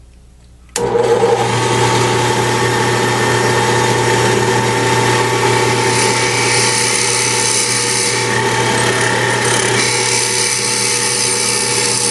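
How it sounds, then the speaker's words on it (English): A loud, steady drill whine runs continuously after a sharp start as it bores into wood, droning without pause, close by and alone. "Let's drill it about 3/4 of an inch."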